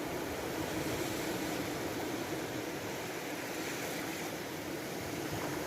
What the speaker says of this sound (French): Écoute le bruit apaisant des vagues qui viennent doucement s'échouer à tes pieds.